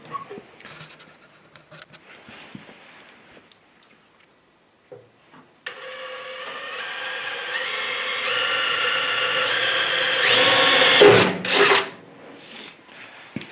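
A power drill whirs into the metal of a smoker for several seconds, drilling a small pilot hole, rising in pitch and intensity before stopping, after some quiet handling noises.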